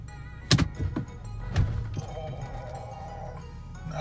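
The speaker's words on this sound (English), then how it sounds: "Okay guys, so that was a gear slam basically" A car's transmission slams as it is shifted into reverse while moving and accelerating, giving a sharp clunk followed by a second jolt and a strained mechanical whine.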